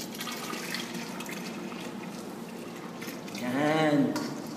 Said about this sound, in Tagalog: Buhos na natin.